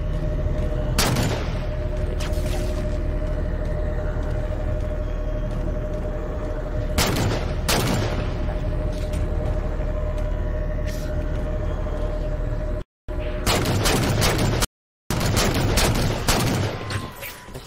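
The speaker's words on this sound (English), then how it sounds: "Taking fire, starboard side!" Gunfire strikes a Pelican dropship in Halo 4, a dense crackle of rounds and impacts over a constant engine rumble and hum, with sharper bursts breaking through at intervals and two short dropouts near the end.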